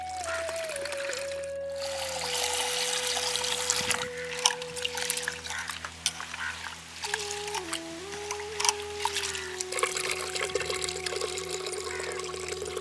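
Water poured and sloshed to rinse rice soaked four hours for thaen mittai, a steady running and trickling sound with a continuous tonal hum alongside.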